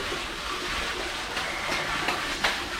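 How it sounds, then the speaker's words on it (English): Water splashing onto a dry wall at a building site before plastering, a steady hissing spray with a few brighter bursts, no speech. "And first is wetting the wall"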